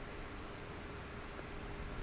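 A futuristic wasp in the game Obduction buzzes as a faint, steady high-pitched drone over a soft noisy background, with no talking.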